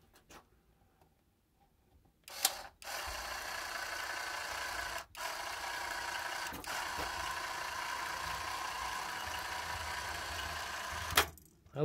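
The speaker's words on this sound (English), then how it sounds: "pick up this Ryobi battery-operated caulk gun" A Ryobi battery-operated cordless caulk gun runs with a steady, quiet motor whir for several seconds, starting and stopping with small clicks.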